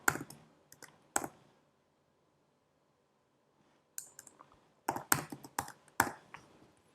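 Keys clack on a computer keyboard in short bursts of clicks, a quick cluster at the start and a denser flurry after a silent pause, close and moderately loud with no talking.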